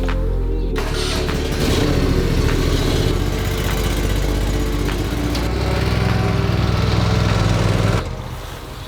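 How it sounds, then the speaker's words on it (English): A loud lawn mower engine drones steadily while cutting grass in a shady section of a yard, with the motor surging slightly partway through and easing off near the end. "So I've been wanting to mow this section in here for a while where it's really shady."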